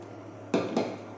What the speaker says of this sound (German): Als nächstes kommen unsere Tomaten hier hinzu.